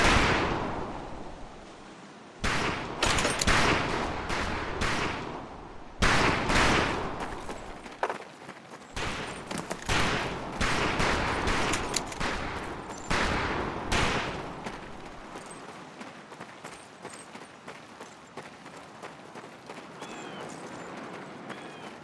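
Rifle fire on a military training shooting range in the World War II game Medal of Honor: Pacific Assault, with many loud overlapping shots in dense bursts that thin out and soften toward the end.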